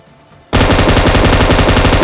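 An M249 light machine gun in BGMI bursts into loud, rapid sustained automatic fire after a short quiet lead-in, the shots hammering close and continuous to the end.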